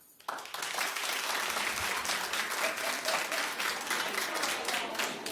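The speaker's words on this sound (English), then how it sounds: "clap if you would go back to an ex. Clap." A television talk show studio audience bursts into clapping after a brief quiet start, loud, dense applause from many hands that holds steady for several seconds, close and full.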